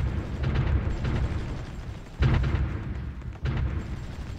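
Artillery fire in the strategy game Supreme Ruler Ultimate, a low rumbling bed of distant explosions with two sharper, louder blasts standing out partway through.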